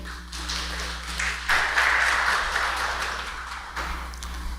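An audience at an education briefing in Amazonas applauds a presenter, steady clapping at moderate level over a low electrical hum, rising briefly then tapering off.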